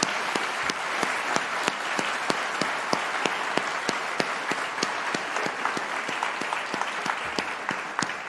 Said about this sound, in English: And one more round of applause for Marty Leonard